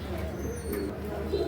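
A blue barless Lahori cock pigeon gives a soft, brief throaty coo at close range, low and muffled.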